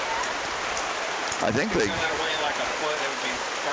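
Steady rain pours down over an outdoor boxing event on a closed Main Street, a dense continuous hiss of falling water with a voice briefly speaking partway through.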